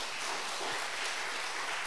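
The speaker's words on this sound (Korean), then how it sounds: "우리 주방팀들을 위해서 박수 한번 하겠습니다." A church congregation applauds the kitchen team at a Sunday afternoon service, a brief, faint, dense patter of clapping with no pauses.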